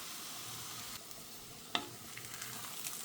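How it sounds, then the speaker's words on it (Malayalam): Egg stirred while it fries in a pan for cauliflower rice: a faint, steady sizzle with one sharp scrape of the spoon midway and a few softer taps after, quiet and close, with no talking. "ഇനി മുട്ടയൊന്ന് ഇളക്കി കൊടുക്കാം"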